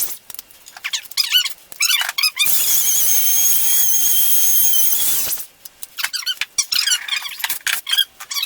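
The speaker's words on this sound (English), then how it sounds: "Really have the compressor on to help blow that out" Compressed air blasts steadily for about three seconds to clear out a workpiece while building 6x9 countersunk rings, a loud continuous hiss standing alone between squeaky, scraping shop noises before and after.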